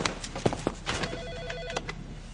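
A telephone rings in short repeated bursts from a scene in the 2009 action film Acid Factory, the tones clear over a busy background with scattered thumps and movement.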